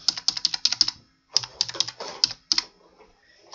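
Rapid clicking of computer keyboard keys in short bursts, close and crisp, with pauses between runs of keystrokes and a brief gap midway, no voice over it.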